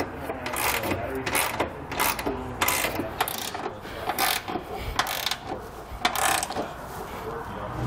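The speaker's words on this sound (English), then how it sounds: "We now want to come back and finish tightening down all of our hardware with a 19 millimeter socket." Ratcheting clicks of a 19 millimeter socket tightening Curt trailer hitch hardware on a 2020 Chevrolet Traverse, continuous rapid mechanical clatter with brief pauses, loud and close.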